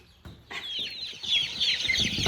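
Young chickens in a brooder cluck and peep continuously, close and fairly loud, with overlapping chirping calls and no speech.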